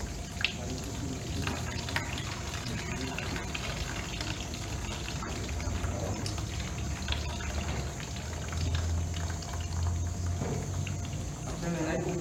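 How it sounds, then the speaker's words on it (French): Water runs and splashes steadily while a hand is washed during a mortuary ritual washing, a continuous close trickle lasting throughout with background room noise and some talk. "il faut maintenant laver sa main"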